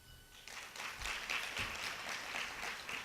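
A summit audience applauds in response to a show-of-hands poll, a quiet but full burst of clapping that swells after a moment and holds steady, heard from some distance.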